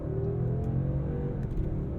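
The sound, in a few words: Mercedes-Benz S 580 accelerating hard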